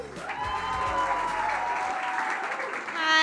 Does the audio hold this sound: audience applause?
yes